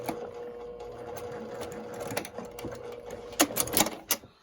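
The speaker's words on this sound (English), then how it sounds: "I'm gonna backstitch the end as well." A sewing machine backstitches the end of a quilt seam, a steady mechanical whir of rapid stitching that pauses briefly and resumes with a few sharper clacks near the end, close and alone.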